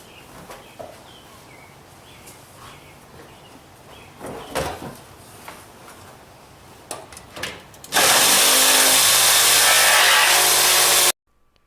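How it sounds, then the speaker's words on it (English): Saber saw cutting during an electric BMW 320i conversion: quiet handling clatter gives way to a loud, steady rasping cut lasting about three seconds before stopping abruptly. "Using the saber saw is a lot like using a scalpel. Cuts really nice, but breaks a lot of blades."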